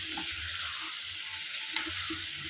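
Masala chicken stir-fried in a pan, a steady hissing sizzle with occasional soft scraping stirs, close and moderate in level, no voices.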